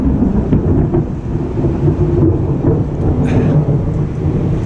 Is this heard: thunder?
yes